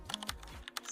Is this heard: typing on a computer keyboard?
yes